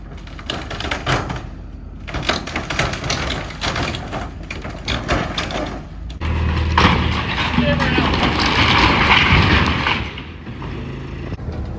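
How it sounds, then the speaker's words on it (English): A backhoe pushes down an old wooden shed, with a loud rumbling engine, cracking timber and a heavy collapsing crash near the end. Someone talks over the machinery at times. "Rob just motioned to me from the backhoe that he's pushing this thing down"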